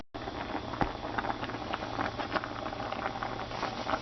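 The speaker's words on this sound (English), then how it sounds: "Bring that back up to a boil." A lidded pot of water boils on the stove, producing a continuous close bubbling and rattling patter with small irregular pops, heard alone without talk.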